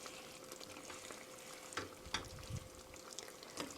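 Mapo tofu sauce being stirred gently in a pan, a quiet simmering sizzle with soft scraping strokes of a spoon every second or so, close but faint and with no talking.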